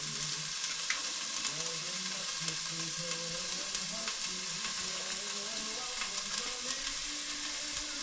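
Chicken sautés in a pan, being seared for tinola, with a continuous crackling sizzle and faint stirring throughout and no voices.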